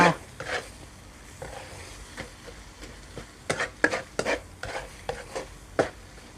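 Pork and egg being stir-fried in a pan: scattered scraping and clattering stirring strokes with light sizzling underneath, growing busier and more frequent in the second half, no voices.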